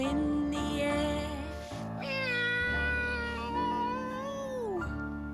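A cat meows repeatedly in long, drawn-out, wavering cries that rise and fall in pitch, fairly close and loud, with a soft bed of background sound beneath.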